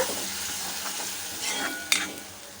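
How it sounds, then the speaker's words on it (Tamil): A spoon stirs tomato puree into sautéed onions in a frying pan while cooking a rajma and black urad dal dish. Steady scraping and soft sizzling continue throughout, with a sharp utensil clink near the end and no talking. "இப்போ இதோடு சேர்த்துட்டு அப்படியே ஒரு தடவை நல்லா கலந்து விட்டுக்கோங்க"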